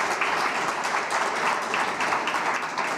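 An audience at a science innovation forum claps in a dense, sustained round of applause for the volunteer team, loud and even throughout.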